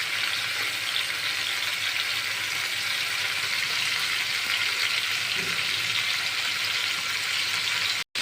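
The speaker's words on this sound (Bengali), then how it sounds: "চিংড়ি মাছগুলো ভাজার জন্য এখানে আমি কিছু পরিমাণে সয়াবিন তেল দিয়ে, তেলগুলো গরম হয়ে গেছে।" Prawns frying in hot soybean oil in a pan give a loud, dense, continuous hiss that holds steady throughout, close by and alone, ending abruptly.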